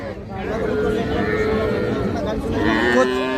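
Young bulls, heifers and calves at a weekly rural cattle market, deep lowing moos rising over a steady, loud babble of crowd voices.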